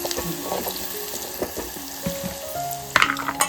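Hot oil sizzles and crackles close by as garam masala goes into the tempering for a crab curry, with bursts of spattering and a few clinks of a utensil stirring the pan.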